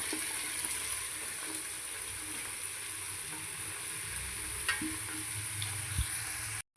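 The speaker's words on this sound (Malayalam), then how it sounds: "വെളുത്തുള്ളി മൂത്ത് വന്നപ്പോഴേക്കും നമുക്ക് സവാള ഇട്ട് കൊടുക്കാം" Sliced onions go into oil with browned garlic for a Kerala-style beef fry, giving a soft, even frying hiss with a few faint stirring taps near the end, no one speaking.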